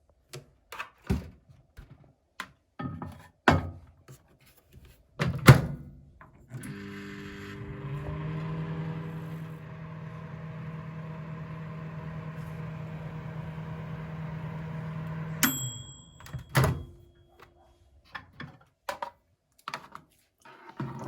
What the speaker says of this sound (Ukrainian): Посилаємо вершкове масло до мікрохвильовки